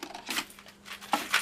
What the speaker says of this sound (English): These are all quarters. I'll forego the automatic machine. Throw them in.